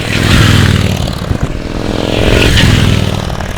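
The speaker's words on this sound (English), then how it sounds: "I will try to throw in a B-roll of my acceleration and deceleration of this bike if I can" A Victory motorcycle revs up and eases off, its steady loud engine drone swelling and falling close by, with no voices.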